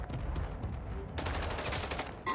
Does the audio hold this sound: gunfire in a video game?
yes